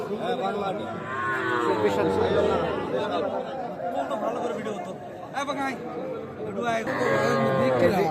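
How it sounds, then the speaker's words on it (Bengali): Bangla cattle and small Sahiwal calves lowing at the Ambari livestock haat in Sirajganj, several loud close moos rising over a steady background of crowd chatter and bargaining voices. "এটা বাংলা গরু"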